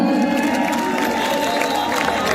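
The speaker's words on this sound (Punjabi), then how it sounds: "ਇੱਕ ਵਾਰੀ ਆਪਣੇ ਲਈ ਜ਼ੋਰਦਾਰ ਤਾੜੀਆਂ ਲਾ ਦਿਓ" A live concert crowd at a show roars with sustained cheering, shouting and clapping, a dense steady wall of noise from many voices close around.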